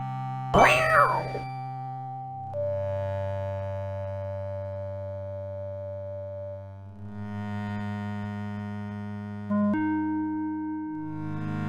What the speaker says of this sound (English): The black cat eyes Graham suspiciously.